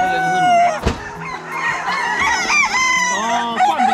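Free-range chickens on a farm, with a rooster crowing loudly nearby over clucking hens, a brief thump interrupting early on.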